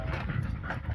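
A street begging dog pants rapidly and steadily close up, the quick breaths running without a break and with no talk.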